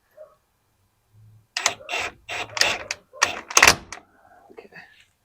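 A nut being run down onto the pinion of a Jeep TJ during a pinion seal replacement, heard as a close series of quick mechanical ratcheting bursts over about two seconds, with faint handling clicks before and after.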